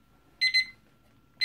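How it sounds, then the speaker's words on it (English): An alarm beeps: two quick shrill electronic beeps, a short pause, then another starting, loud and close over a faint steady hum. "There's my alarm."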